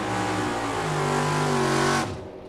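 Drag race cars, one a blue 1969 Chevelle, launch off the starting line with a loud, close engine roar that climbs in pitch for two seconds, then drops away abruptly as they pull off.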